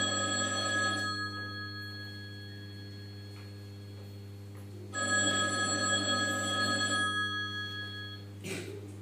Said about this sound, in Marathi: सर, आता तुम्ही रेखाच्या वडिलांना फोन लावून प्रिन्सिपलने शाळेत बोलवलं आहे म्हणून सांगा।